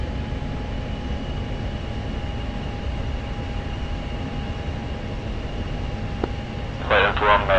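An F-16C jet engine throttled back in the DCS flight simulator: a steady, close cockpit drone with a constant hum, a brief click, then a short burst of radio-like chatter at the end.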